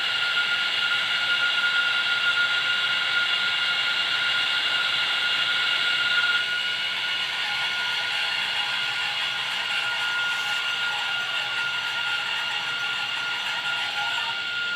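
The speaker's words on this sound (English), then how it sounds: "You can hear that jet kind of scream as it starts to travel down the track." A sustained, high-pitched jet-like turbine whine from a model train's turbine engine screams steadily as it travels down the track, easing slightly about halfway through, over a faint low mechanical rumble.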